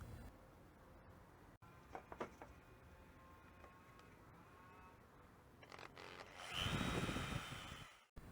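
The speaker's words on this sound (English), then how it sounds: "Then I inserted the stakes into the frame and drilled the mounting holes." A power drill bores mounting holes through a trailer frame, first as faint intermittent knocks and scrapes, then as a louder whirring grind of about two seconds that cuts off sharply, all near and quiet overall with no talk.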